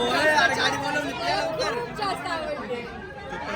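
Many voices overlap in a steady, close babble as a large crowd fills the opening of the Sukoon tea shop, with no single voice standing out.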